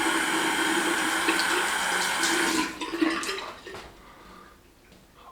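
Hot water pours steadily from a tap onto a shaving brush during a traditional wet shave, a loud continuous splashing rush that thins and quiets after about two and a half seconds, leaving softer dribbles.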